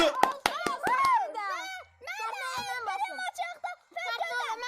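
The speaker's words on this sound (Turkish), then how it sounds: "Alkışlayın oğlum" A few sharp claps from excited children ring out at the start, then give way to loud, high-pitched children's shouting and chatter that fills the rest of the moment.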